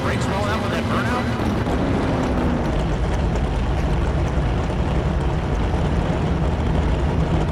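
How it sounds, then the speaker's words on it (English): Drag racing engines from a video game roar in a loud, continuous, dense wall of noise that holds steady throughout, with no pauses. "The roar of the engines firing up"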